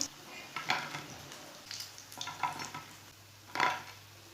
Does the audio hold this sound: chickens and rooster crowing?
no